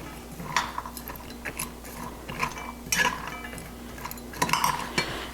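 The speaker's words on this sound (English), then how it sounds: "Give this a little bit of a stir." A spoon scrapes and clinks against a pot of Appalachian soup beans, giving irregular metallic taps and stirring scrapes close by, with no talking.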